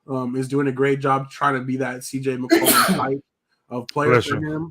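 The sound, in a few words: sneeze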